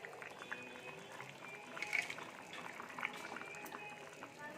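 Fish curry broth bubbles at a boil in a pot, a soft, steady burble of small popping bubbles with a few louder gurgles, fairly quiet and close, with no voice.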